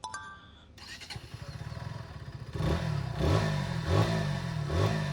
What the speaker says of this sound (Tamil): ஸோ இந்த வண்டியோட எக்ஸாஸ்ட் நோட் எப்படி இருக்குன்னு கேட்டுட்டு நம்ம ஸ்டார்ட் பண்ணலாம்.